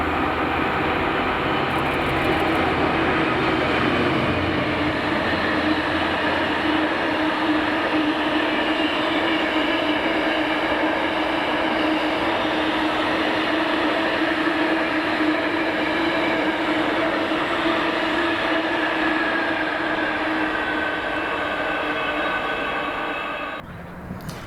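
Class 66 locomotive 66503 hauls a freight train heading from Elderslie toward Grangemouth Docks past Hillington West, a steady loud rumble of engine and rolling wagons sustained throughout with no speech.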